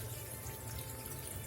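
A cup of water is poured into a cooking pan of vegetable Manchurian made with carrot and capsicum, giving a faint, steady splashing flow throughout the short moment.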